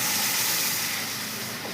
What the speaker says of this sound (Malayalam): ഇനി നമ്മൾ നേരത്തെ അരച്ച് വെച്ച അരപ്പ് ഇതിലേക്ക് ഒഴിച്ചെടുക്കുക